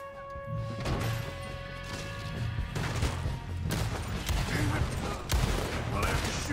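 Gunfire erupts in a Red Dead Redemption 2 shootout, a rapid fusillade of sharp shots and crashing impacts over continuous game ambience, fairly loud and close.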